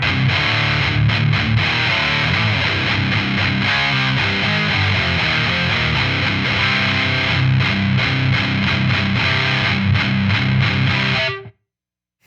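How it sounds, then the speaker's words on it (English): A heavily distorted electric guitar through a Joyo Uzi distortion pedal plays a dense, gritty riff loudly and continuously, then cuts off abruptly into silence. "I find that the highs on some of these distortion pedals can be a little bit abrasive."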